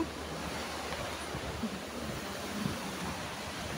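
Sea waves at a seaside wash in a steady, soft roar, a broad continuous rush with faint wind buffeting the microphone.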